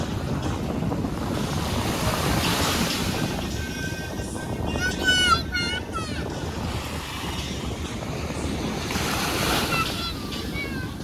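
Steady ocean surf and wind noise at a beach fill the scene continuously, with waves washing in and out and a brief voice or whistle-like sound partway through.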